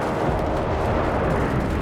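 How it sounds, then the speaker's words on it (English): Howitzer artillery bombardment in Company of Heroes 3: a continuous loud, dense roar of explosions and blasts with no gaps and no talk over it. "They're calling in a bombardment run here on the"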